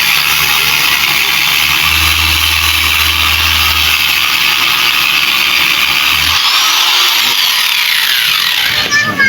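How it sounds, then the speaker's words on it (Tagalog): An angle grinder works continuously, grinding old epoxy off a surface with a loud, harsh high whine. A low hum drops out partway through, and the grinder stays close and dominant throughout. "Ang grinder."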